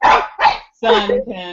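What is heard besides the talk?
dog barking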